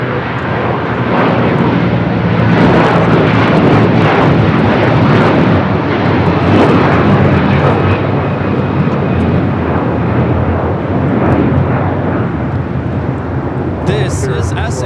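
An SAS Airbus A330-300 bound for Copenhagen takes off at LAX, its engines a loud, sustained broadband roar that holds steady throughout, with faint radio chatter or voices underneath.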